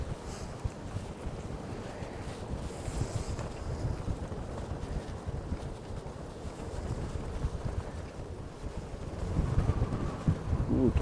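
Steady wind rushes and buffets past a cyclist riding on a bike tour in Namyang, South Korea, with a continuous low roar that grows louder and gustier toward the end.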